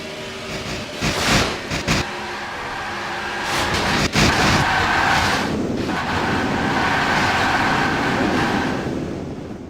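Race truck in a NASCAR video game striking the wall and spinning out, a loud sustained engine and tire roar with scraping bursts near the start and a sharp impact midway, no talking.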